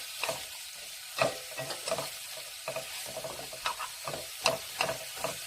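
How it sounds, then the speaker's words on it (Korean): Strips of burdock stir-frying in cooking oil, a steady sizzle broken by repeated scraping stirs and clacks of the utensil against the pan, close up and with no voices. "이 식용유에다가 웅채를 한번 볶아주세요."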